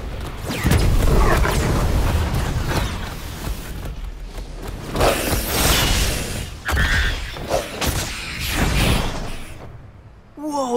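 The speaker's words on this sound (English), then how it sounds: "They're shooting off fireworks!" Fireworks bursting in the video game NEO: The World Ends with You, a run of booming thumps and whooshing blasts over a constant noisy bed, with several distinct pops spread across the clip and a quieter tail at the end.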